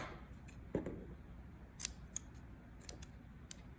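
Scissors snip through crochet yarn in a few quiet, separate cuts, each a short crisp click and slice, close up against near silence.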